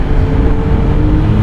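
A 2017 Suzuki GSX-S750 motorcycle engine drones steadily while riding, a loud, close, continuous rumble with no break.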